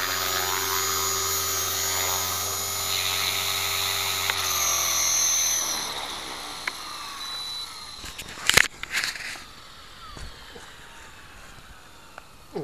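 An RC helicopter with a Tarot ZYX-S flybarless controller hovers with a steady high-pitched rotor and motor whine that drops in pitch as it lands and spools down. A few sharp clattering knocks follow.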